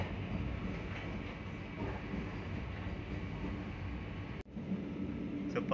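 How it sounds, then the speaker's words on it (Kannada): A Vande Bharat express from Ernakulam to Bengaluru starts off and runs, heard from inside as a steady, droning rumble with a brief bump near the end. "ಇವಾಗ ಟ್ರೈನ್ ಸ್ಟಾರ್ಟ್ ಆಯಿತು."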